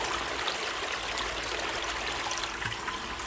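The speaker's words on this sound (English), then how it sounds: "Now we got a nice even stream of water at the same depth on both sides." Steady stream of water running from a hose into a recirculation tub set up for gold prospecting in Arizona, a continuous broadband rushing and trickling, even and close, with no voices.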